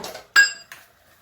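Pots and dishes being washed clatter in a couple of sharp, close metallic clanks with a bright ringing tail, then fall quiet.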